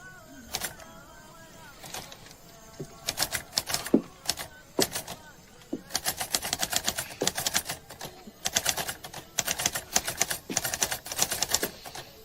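Rapid, uneven clacking of typewriter keys and strikes, loud and close, running in bursts with short pauses, with no voices over it.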